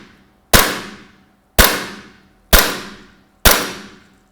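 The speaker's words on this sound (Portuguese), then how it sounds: "Dou 5 disparos." Four sharp, loud shots fired one at a time from a shooting-simulator gun during screen calibration, at an irregular pace, each a crisp crack that quickly fades.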